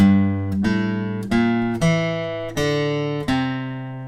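Plucked acoustic guitar notes of the melody played one at a time, about seven in a slow, even melodic line, each ringing clearly before the next.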